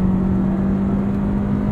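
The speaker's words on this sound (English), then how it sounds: "Off the line, it's a little bit sluggish to accelerate, but once it sees some revs," Steady engine drone with a strong low hum from a 2023 Honda CR-V EX-L AWD with a CVT, heard from inside the cabin while accelerating. Continuous and fairly loud, with no talking.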